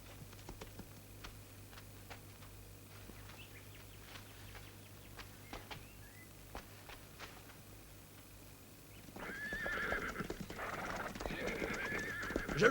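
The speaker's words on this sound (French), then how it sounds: "Regardez ce cheval." Horse with steady soft hoofbeats at first, then a loud, close, shrill neigh near the end. Faint clicks run under it.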